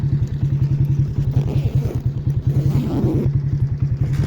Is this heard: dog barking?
no